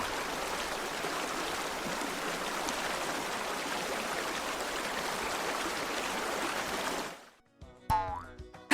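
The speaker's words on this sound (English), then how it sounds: "Now we'll hear a river. Can you hear the water flow?" River water flows in a steady, broadband rush, close and even for about seven seconds, then stops abruptly and a few brief tonal sounds follow.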